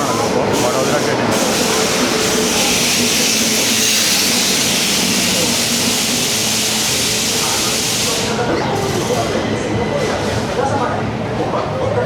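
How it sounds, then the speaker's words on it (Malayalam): Jamnagar Tirunelveli Express hauled by a WAP-7 electric locomotive, a loud continuous rumbling roar with hissing rail noise close by, steady throughout, with voices faintly beneath. "ഇതാണ് ആ വണ്ടി, ജാംനഗർ തിരുനെൽവേലി എക്സ്പ്രസ്."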